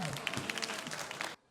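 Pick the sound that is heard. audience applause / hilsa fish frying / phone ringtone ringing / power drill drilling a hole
audience applause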